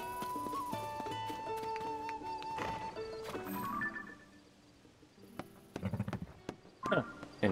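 A horse in the video game Zelda: Tears of the Kingdom whinnies and clip-clops at close range over layered game music and effects, with a few sharper thumps near the end.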